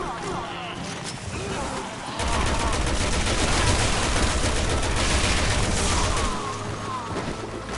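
Assault rifle fire in Resident Evil 6, a loud sustained burst of rapid automatic shots in the middle of the stretch, with quieter game action and voices before and after.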